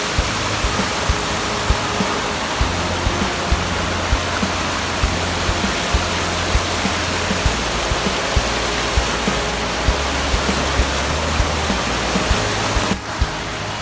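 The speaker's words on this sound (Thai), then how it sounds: "นี่ครับบรรยากาศ โอ้ น้ำฝายนะครับ" Water pouring over a village weir at night, running high after heavy flow, a loud, steady broadband rush that continues without a break, with faint small ticks mixed in.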